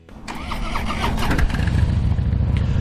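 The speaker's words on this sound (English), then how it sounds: "Angel's going to fire it up for us real quick." A used Harley-Davidson motorcycle engine cranks and fires up, settling into a loud, close, steady rumbling idle that runs to the end with no talk over it.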